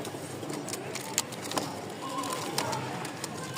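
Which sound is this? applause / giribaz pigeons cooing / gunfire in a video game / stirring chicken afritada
giribaz pigeons cooing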